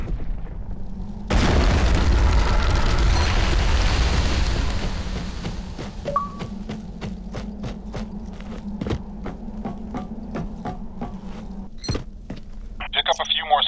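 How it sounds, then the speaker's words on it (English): Spike grenade detonating in the Fracture video game and throwing up a column of molten rock: one sudden, loud, broad boom with a heavy rumble that fades over a few seconds, followed by a steady run of footsteps. "They're spike grenades. They create a column of molten rock and can be used to lift objects."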